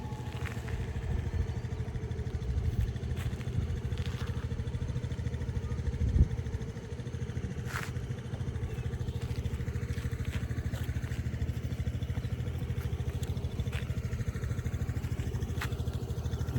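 A motorbike engine hums steadily throughout, a continuous low drone while riding, with occasional faint clatter and wind over it.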